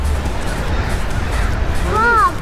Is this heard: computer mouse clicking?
no